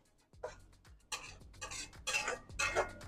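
Dried chillies and curry leaves sautéing in a pan with onion and garlic for a Chettinad paneer gravy: scraping stir strokes and light clinks build into louder bursts of frying, close and with no talk.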